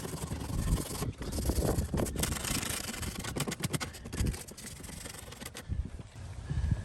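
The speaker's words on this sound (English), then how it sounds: "First, we gotta sand this. we got to sand it first." Hand sanding across a cracked plastic bumper on a Chevrolet Volt, a steady close scratchy rubbing that runs continuously in uneven strokes with no talk over it.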